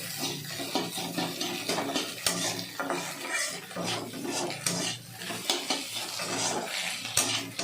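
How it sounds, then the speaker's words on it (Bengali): Egg frying in a pan for a sweet-and-spicy pasta, stirred with a utensil: soft sizzling under a run of scraping and clinking strokes against the pan, fairly quiet and close, with no talk. "ডিমটাকে ফ্রাই করে নেব"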